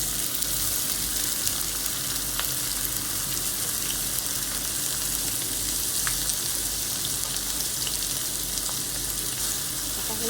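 Chopped onions fry in hot oil with two bay leaves over low heat, giving a steady, close, even sizzle that runs unbroken throughout.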